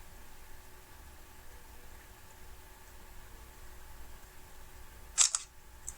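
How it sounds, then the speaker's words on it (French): A camera shutter clicks once, sharp and close, after several seconds of quiet room hiss with a faint hum, followed by a brief mechanical whir. "Je vais prendre ma photo"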